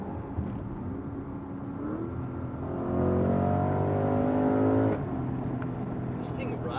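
A 2021 Porsche Cayenne GTS accelerates in its most aggressive drive mode, its exhaust note swelling into a rising, droning engine pull for a couple of seconds before easing off, heard from inside the cabin.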